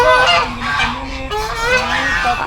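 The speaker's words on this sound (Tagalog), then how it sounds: "Daming gansa mga guys." Several geese honk repeatedly and loudly nearby on a farm, overlapping calls forming a noisy chorus.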